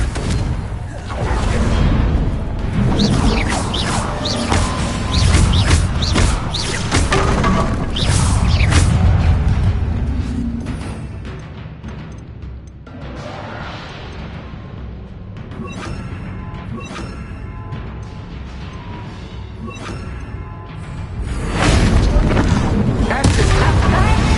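A Confringo spell explosion in the video game Hogwarts Legacy, with loud booming blasts and rumbling crashes filling the whole stretch and swelling again near the end, under in-game speech.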